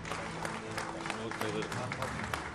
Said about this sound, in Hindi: स्पेस कमांड सेंटर तालियों से गूंज उठा।